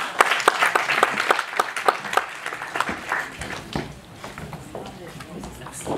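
At an employment forum, an audience claps to welcome a speaker, with brisk, distinct hand claps for about three seconds that then thin out and fade as a voice begins talking.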